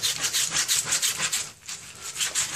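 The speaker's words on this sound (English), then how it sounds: "So we're giving it a go with just a wet magic all-purpose scrub." Wet all-purpose scrubber worked back and forth over 30-year-old bathroom grout that had never been cleaned, giving a steady run of close, rasping rub strokes with a brief pause partway through.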